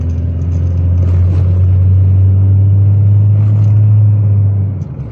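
Honda Civic with a noisy engine on a final road test drive: a steady, loud low engine drone and road rumble from inside the car, holding even throughout before easing off at the very end.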